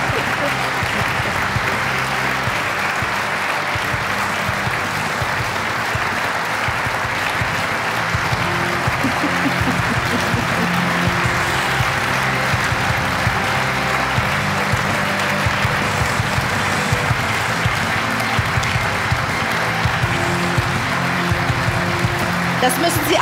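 Audience applause at the German Environmental Prize 2021 award ceremony, a long, steady wash of clapping from a large crowd that holds evenly loud throughout, with talking faintly mixed in.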